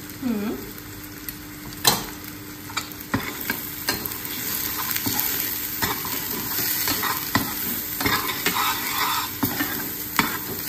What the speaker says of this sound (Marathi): छान परतवून घ्या